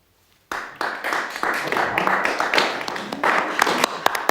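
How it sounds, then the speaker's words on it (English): Dinner guests break into applause after an engagement announcement. After a moment of quiet, a small group claps at close range, with sharp individual claps over a steady patter. "Methought I did hear the groundlings applaud."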